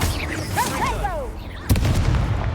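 A video-game shield spell goes off: swooping, warbling magical tones lead into a sudden bright burst with a rumbling tail, close and fairly loud.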